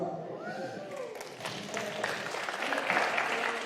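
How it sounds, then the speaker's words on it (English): Audience applause at a squash league event in the Frans Otten Stadion, Amsterdam, honoring the sponsors: a steady wash of many hands clapping that swells louder toward the end, with some voices mixed in. "all these people deserve a real big round of applause"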